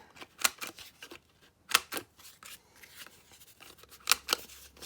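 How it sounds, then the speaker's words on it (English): A corner rounder set to 1/4 inch punches the corners of altered playing cards, giving several sharp crisp clicks spaced irregularly, close up with faint handling rustle between them. "Grab my corner rounder, and we're going to use the 1/4 inch just to make these corners"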